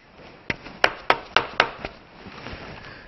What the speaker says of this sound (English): with our impact, we are going to put it in the bolt hole and just simply tap it up till it turns